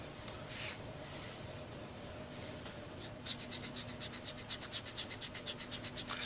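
A chipped pen tip is sanded with single O abrasive, first a faint continuous scratching, then a quick run of regular, evenly spaced rasping strokes that grows louder and rhythmic.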